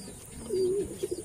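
A single soft pigeon coo, low and drawn out, followed by a couple of brief quieter notes against a faint background.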